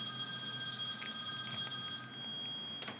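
A house telephone rings with a steady electronic bell tone, held continuously at moderate loudness in a quiet room.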